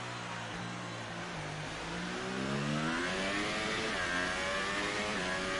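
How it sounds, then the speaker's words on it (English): A Formula 1 car accelerating at Circuit of the Americas, its engine note climbing through rising rev sweeps with gear changes, fairly distant and continuous, with no talking over it. "Now you can hear the difference in engine tones"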